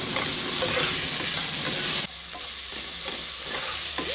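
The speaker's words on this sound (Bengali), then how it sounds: "মটরশুঁটিটাকেও একটু মূলোর সাথে ফ্রাই করে নিচ্ছি।" Radish and peas frying together in a pan, a dense close sizzle that drops slightly in level partway through, with soft scraping and stirring clicks and no talk.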